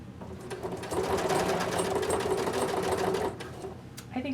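A sewing machine stitches bias tape onto the armhole of a quilted vest, running steadily for about two and a half seconds with a close, even mechanical chatter before slowing to a stop.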